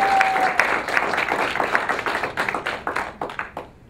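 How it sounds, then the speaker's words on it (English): A room audience claps for an Employee of the Month presentation, starting as a full burst of applause and thinning into fewer, sparser individual claps as it dies away. "Can you give her a big applause?"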